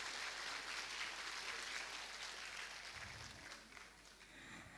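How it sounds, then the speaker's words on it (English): An audience at a preschool annual day prize distribution applauds, a continuous wash of clapping heard faint and distant, steady throughout with a slight dip near the end. "A big round of applause."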